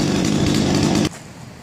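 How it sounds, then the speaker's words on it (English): A Timberpro chainsaw mill cuts through a double barrel spruce log with a steady, loud engine drone that drops abruptly to a lower idle near the end. "There's the milling of the double barrel spruce log."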